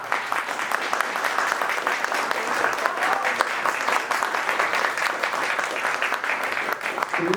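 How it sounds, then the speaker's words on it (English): Wedding guests give a sustained round of applause for the couple's parents, even, dense clapping continuing for about seven seconds with a faint voice near the end. "I want to give you guys a sign of applause and appreciation"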